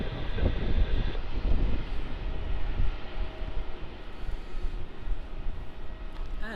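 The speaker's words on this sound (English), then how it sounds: "lining up onto the runway now, we have QF767 off to Perth. That's an A330" A Qantas Airbus A330 airliner lines up on the runway at Melbourne Airport, its engines a steady distant rumble and whine that holds throughout.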